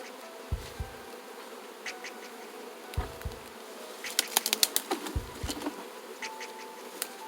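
Bees buzz steadily around an open hive during a brood transfer into a new beehive, with a low droning hum and scattered sharper buzzes of individual bees flying close past, no talking.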